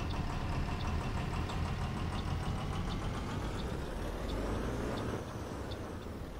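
Bus engine in the OMSI 2 simulator held at steady throttle, a continuous close, rumbling drone with faint rhythmic knocking, running evenly throughout and easing slightly near the end, with no talk.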